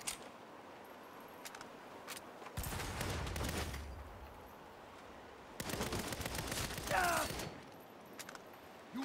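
Video game gunfire in Saints Row comes in two loud, sustained automatic bursts separated by quieter stretches with a few faint single shots.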